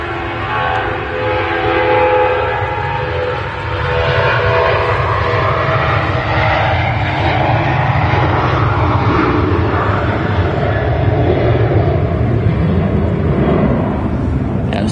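Ryanair airliner taking off at Manchester Airport, loud sustained jet engine roar building and holding throughout, fairly close, with no talk.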